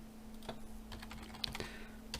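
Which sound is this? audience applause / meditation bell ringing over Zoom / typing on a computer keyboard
typing on a computer keyboard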